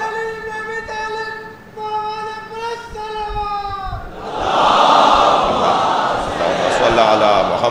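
At a religious gathering, a single voice calls out a drawn-out slogan, and a large crowd then answers with a loud, massed chant that fills the second half.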